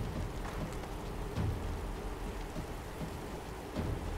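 Steady rainfall with low rumbling in the video game Divinity: Original Sin 2, a continuous wash of rain on surfaces with soft thunder-like booms recurring underneath, no voices present.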